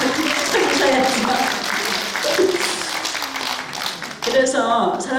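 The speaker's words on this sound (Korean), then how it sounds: "여러분 이 대목에서 박수 한번" Applause from an audience at a women's forum held in a National Assembly conference hall, steady clapping sustained for several seconds with voices and cheering mixed in, briefly dropping before swelling again near the end.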